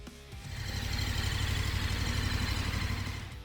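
A KTM 1390 Super Adventure S-Evo motorcycle engine running, a close, rough throbbing drone that swells in after a brief start and holds steady before easing slightly at the end.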